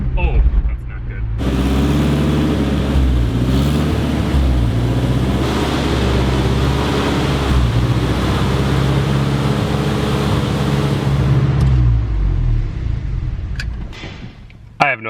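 A lifted minivan's engine runs at a high, steady idle, a broad continuous drone with a low harmonic hum, starting abruptly and cutting off near the end with a brief clunk.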